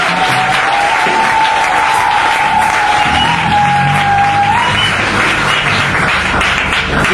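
A church congregation applauds and cheers for its pastor, a loud, dense, continuous roar of clapping with crowd voices and a sustained whistle-like tone running through part of it.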